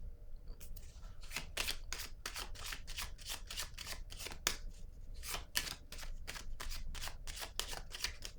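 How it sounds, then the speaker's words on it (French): Tarot cards are shuffled and drawn from a deck in a quiet room, giving a series of crisp, riffling card flicks and slides in uneven bursts, fairly close and soft. "je vais piger une autre carte"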